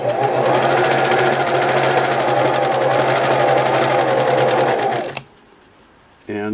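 A Singer Model 353 Genie sewing machine runs steadily for about five seconds, straight-stitching through facial tissue with a loud, even motor whir, then cuts off into near silence before a brief restart.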